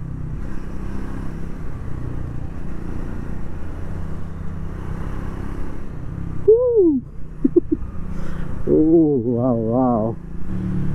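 A Triumph Speed 400 motorcycle runs along the road with a steady, moderate engine drone, while a rider talks over it toward the end.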